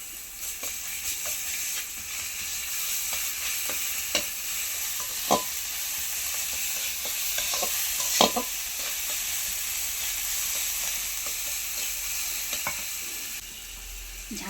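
Onions frying in a pan with garlic paste added, a steady close sizzle with occasional scraping and stirring knocks, no voices.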